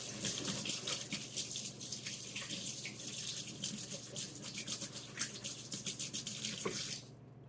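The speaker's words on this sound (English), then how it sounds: "let me go wash my hands" Tap water runs steadily into a kitchen sink as hands are washed beneath it, a close, continuous splashing hiss with small irregular splashes, cutting off at the end.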